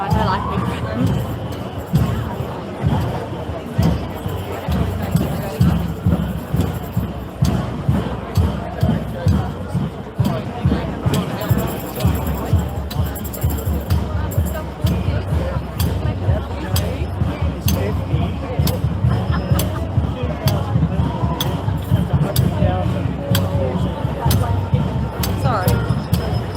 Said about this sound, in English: It's a big crowd and I don't like big crowds.